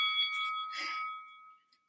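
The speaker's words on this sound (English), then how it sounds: "don't listen to that timer" An electronic interval timer alarm goes off during an upper-body compound-move workout, a steady high beeping tone sustained for about a second and a half before cutting off, loud and alone with no talking.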